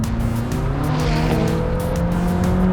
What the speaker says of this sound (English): Can hear the turbo spooling up behind me.